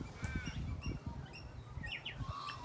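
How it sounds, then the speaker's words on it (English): Birds sing and call outdoors, several chirps, tweets and a few caws scattered irregularly over a low rustling background, faint and fairly distant. "So if you can hear a lot of birdsong and wildlife, that is what is going on."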